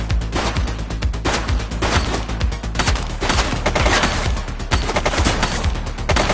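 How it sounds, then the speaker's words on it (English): Dense, continuous gunfire from the police video game The Precinct: rapid overlapping shots and bursts crackle loudly and almost without pause, with no voices. "Shots fired!"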